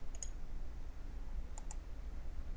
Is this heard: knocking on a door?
no